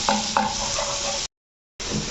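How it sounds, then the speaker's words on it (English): Garlic and onions sizzle loudly in a hot pan as a spoon stirs them, with a couple of quick clinks at the start, then a short silent gap before the frying continues. "I'm going in with my garlic, and I'm going to give this a stir until my garlic is also starting to brown."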